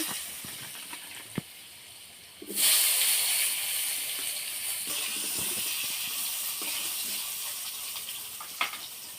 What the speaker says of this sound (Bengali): এবার ওই তেলে আলুগুলো ভেজে নেব।